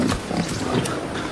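Pigs grunt and snuffle in a pig pen in a dense, close, continuous jumble of rough squeals and oinks, with no talking over them.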